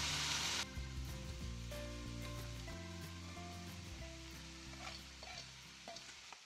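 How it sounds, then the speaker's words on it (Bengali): Vegetables for paneer fried rice frying and being stirred in a pan, with a loud steady sizzle that eases after the first moment and continues with scraping stir sounds throughout. "প্রায় 5 মিনিট পর সবজিটা ভাজা ভাজা হয়ে গেলে"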